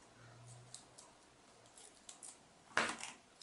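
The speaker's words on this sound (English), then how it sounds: "I'm cutting it rather than ripping it because we want some nice neat edges" Scissors snip through craft tape in one short, sharp cut near the end, after quiet handling and faint rustling; close and crisp.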